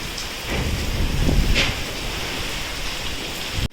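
Rain falls steadily in a village, a dense, even hiss of drops running the whole time with a few slightly louder patters near the start and no voices.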